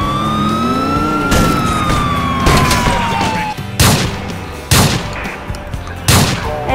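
Police siren wailing in a video game, a steady sweeping tone that fades after a few seconds, followed by sharp loud bursts like gunfire or crashes.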